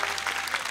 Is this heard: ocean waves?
no